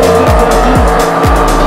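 A DeLorean's loud engine revs hard in repeated rising sweeps during a gymkhana run while tires squeal continuously, very close and intense.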